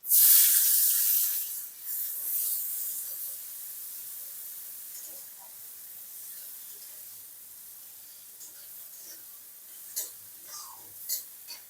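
Chopped onion and green chili hitting hot oil with a panch phoron tempering, for a rui fish curry with potol and potato: a loud initial hiss that settles into a softer, steady sizzle, with a cook speaking alongside.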